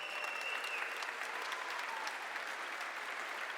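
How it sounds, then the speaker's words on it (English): Applause in a large convention theatre for video game pianist Martin Leung, a steady, even wash of crowd clapping with faint cheering, sustained throughout. "Big round of applause for him."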